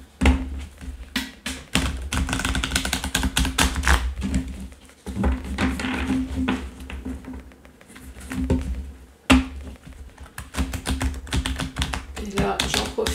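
Tarot cards being shuffled close up, a dense, continuous run of soft papery taps and riffles with brief pauses near the 5, 8 and 9 second marks.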